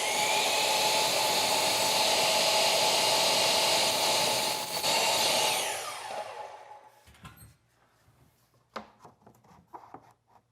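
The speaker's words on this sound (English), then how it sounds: "So back to the miter saw." A miter saw cuts window trim, a loud steady whining roar for about five seconds that then winds down to silence, followed by a few faint clicks and handling knocks.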